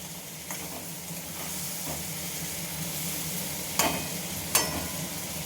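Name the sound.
fried potatoes being stir-fried with spices in a pan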